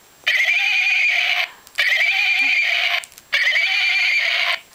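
A toy horse neighs three times, each electronic whinny lasting about a second with short pauses between, loud and close with no talking.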